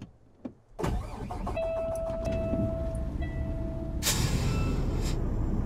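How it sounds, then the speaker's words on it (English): A heavy truck in American Truck Simulator pulls away after the clutch is popped; the engine catches with a sudden rise into a steady loud drone, a thin whine running through it and a surge near the end. "Guess I popped the clutch a little bit too soon."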